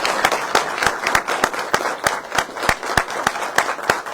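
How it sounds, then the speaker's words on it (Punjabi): Rousing applause from a gathered crowd at a political speech in Punjab, steady overlapping hand claps with sharper individual claps popping out at an irregular brisk rhythm, close and loud throughout. "ਇੱਕ ਵਾਰ ਜ਼ੋਰਦਾਰ ਤਾੜੀਆਂ ਮਾਰੋ ਯਾਰ"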